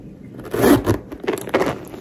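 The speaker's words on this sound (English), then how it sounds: "It's the zipper." A gold-hardware zipper on a Prada Re-Edition handbag is pulled in a few short, raspy scraping bursts, close up and moderately loud, with no talk.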